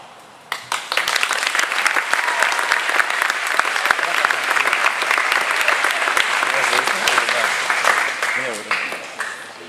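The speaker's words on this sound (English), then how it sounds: "Give yourself a big round of applause." A large crowd at a high school graduation ceremony breaks into loud, sustained applause, dense clapping that starts suddenly and carries on evenly for several seconds before beginning to fade.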